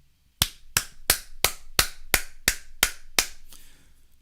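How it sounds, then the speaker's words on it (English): Nine sharp, evenly spaced hand claps ring out close and alone, each a crisp smack with a short decay, followed by quiet. "that's me clapping for you"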